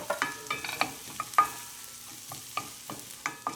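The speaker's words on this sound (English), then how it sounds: "So first put the onion in the pot and saute on its own before we add the garlic." Onion softening in melted butter in a pan, with intermittent faint sizzling and scattered light scraping and stirring clicks at an even, unhurried pace; no voices.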